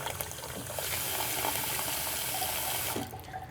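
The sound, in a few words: running water rinsing sausage casings in a bowl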